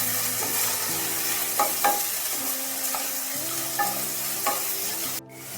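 Boiled potatoes tossed into a pan with garlic over a simmering gas flame, a steady close sizzle with a few spatula knocks and scrapes, fairly loud, alone with no voices.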